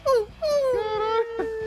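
Puppies whimper and wail in the GTA RP video game, a few close high-pitched drawn-out whines in quick succession, with no talk.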